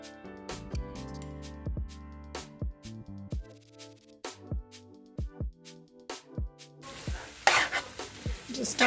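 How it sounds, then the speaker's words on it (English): Noodles with prepared sauce and vegetables are stirred in a hot pan, with a rapid run of sharp spatula scrapes and knocks over a light sizzle that swells louder near the end. "go ahead and add your prepared sauce. And then give it a stir."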